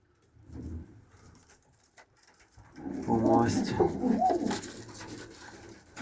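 Pakistani high-flying pigeons coo softly in a few low, rolling calls, close by, while someone talks over them in the later half.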